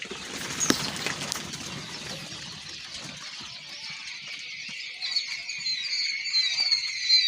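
High, thin chirping from a group of 9-10-day-old quail chicks, overlapping continuously, with some rustling and a clatter early on, growing a bit louder toward the end.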